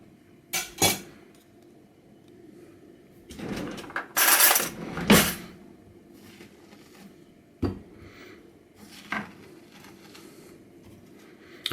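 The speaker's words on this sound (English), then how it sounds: "Next step is to scoop this stuff out. So I'm just going to use a spoon for that." A metal spoon scraping and scooping the seeds and soft flesh out of a halved marrow, giving several sharp scraping bursts with quiet gaps between, close up and without talk.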